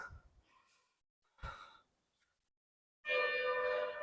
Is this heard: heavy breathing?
yes